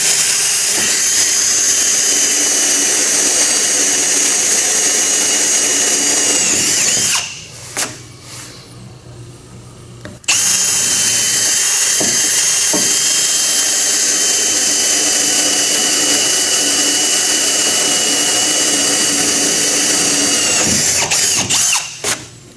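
A power driver runs screws into a gooseneck trailer deck, whirring loudly and continuously with a brief pause partway through before the tool picks up again, then cuts off near the end.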